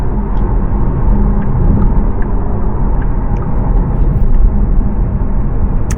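Inside a Porsche Panamera as its engine and electric motor pull together under acceleration, a steady low rumble and drone holding loud and even throughout, with no talk.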